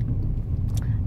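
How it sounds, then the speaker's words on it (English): A Porsche car passes on a road near St Ives, heard as a steady low engine rumble that stays level throughout, with a brief faint voice near the end. "It's a Porsche."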